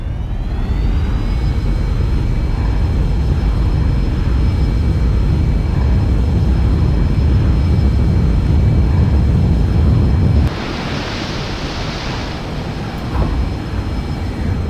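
Cirrus Vision Jet taking off from an aircraft carrier: a loud, steady broadband jet roar with a high whine that drops off abruptly after about ten seconds, followed by a brief hiss and quieter rumble.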